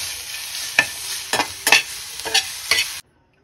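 Cumin powder and other ground spices fry briefly in a pan for palak paneer, a soft sizzle with several sharp scraping stirs before it cuts to silence.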